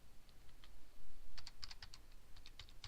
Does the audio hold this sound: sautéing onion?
no